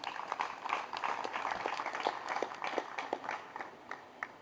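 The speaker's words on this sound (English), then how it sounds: "I think they deserve a round of applause." Audience applause for tournament sponsors at an event, a steady wash of many hands clapping, moderately loud throughout, with scattered sharper individual claps standing out.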